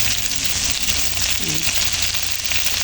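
Fried galunggong fish and tomatoes sizzle loudly and without a break in a pan of sautéed fish with string beans, a dense crackling fry close up.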